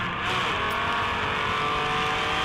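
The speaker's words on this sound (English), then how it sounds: "there's that naturally aspirated straight six with the crazy header" A naturally aspirated straight-six M1 race car with a wild exhaust header, at a historic race meeting in Monterey, roars loudly and steadily at close range, a dense, raspy engine howl with no voices.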